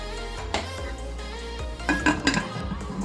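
A pressure cooker with a stand inside, its gasket and whistle removed, is closed for baking cake. Metallic clanks and clinks of lid and pot ring out close by over a steady low hum.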